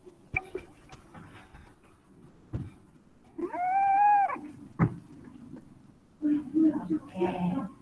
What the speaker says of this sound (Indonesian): Ini kucing ngapain dimasukin?